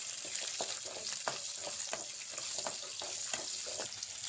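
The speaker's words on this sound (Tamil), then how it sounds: "எல்லாம் நல்லா பொன்னிறம் ஆகிற வரைக்கும் வதக்கி விட்டுக்கலாம்" Lentils, chillies, garlic and shallots sauté in a pan for a chutney, a dense continuous sizzle with regular soft scraping strokes of a stirring spoon, close and steady, with no talking.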